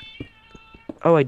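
A cat in the Minecraft video game gives a high meow near the end, following a faint tonal hum and light clicks, with a person speaking briefly over it.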